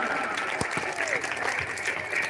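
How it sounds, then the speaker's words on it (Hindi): Audience applause welcoming guests onto a Ram Lila committee stage, a fairly even clapping crowd at moderate distance, with a faint voice briefly audible over it. "एक बार जोर से तालियां बजा दिया जाए"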